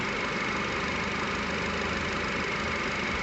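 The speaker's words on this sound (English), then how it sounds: "switch the engine back on" Nissan Qashqai Acenta 1.6 16v petrol engine idling, a steady, even hum heard close up with no talk.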